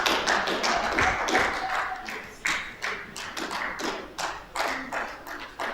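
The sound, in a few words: audience clapping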